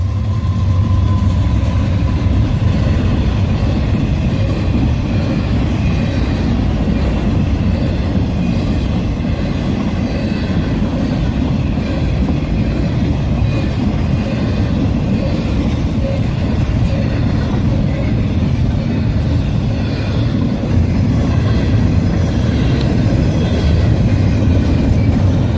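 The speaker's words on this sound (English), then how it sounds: "On March 2017, an intermodal goes very fast through this railroad crossing." A Norfolk Southern intermodal freight train speeds through a railroad crossing, a loud, steady rumble of wheels and cars that holds without a break for the whole span, with no voices.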